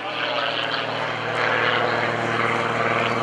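A propeller plane's engine drones steadily overhead during aerobatics at the 2014 Greenwood Lake Airshow, rising slightly in intensity as the plane rolls, while someone talks over it.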